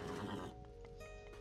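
A horse neighs in the Age of Mythology video game, a brief close whinny that cuts off and leaves a low game background hum.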